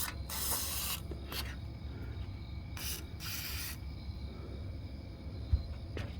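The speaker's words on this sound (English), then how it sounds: "Spray it down that rail, let it run down." Lubricant sprayed down the slide-out rail of a 2004 Country Coach RV with an HWH slide system, heard as several short hissing bursts of varying length over a steady low background rumble.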